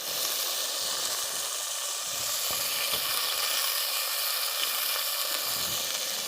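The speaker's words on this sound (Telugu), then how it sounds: "బాగా మెత్తగా వేయించుకుందాం టమోటాలు అయితే" Tomatoes fry in a clay pot for a fish curry, giving a loud, steady, close sizzle with soft hissing that continues unbroken throughout, with no talk.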